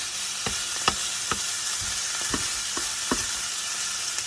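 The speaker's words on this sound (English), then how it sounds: "once you're done frying your steak" Steak frying in a hot pan, a steady hiss of sizzling fat with a handful of sharp pops and crackles spread across the few seconds, heard close with no voices.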